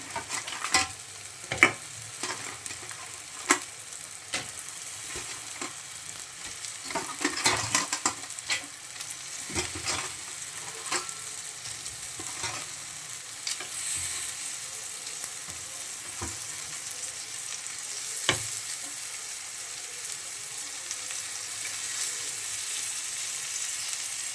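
Crab fries in a thick masala gravy while a spoon stirs it, so a low sizzle sits under repeated scraping and clinking strokes against the pan. The sound stays close and fairly quiet, with no talking.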